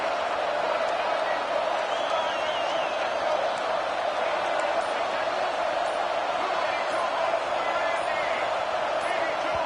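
A dense, continuous roar from a packed stadium crowd at a college football game fills the air with steady, loud noise.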